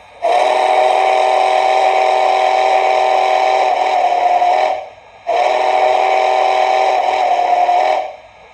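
Two long, loud whistle blasts with a bright, reedy harmonic tone from an HO-scale Trix Big Boy #4019 model steam locomotive, each held about four to five seconds with a short gap between.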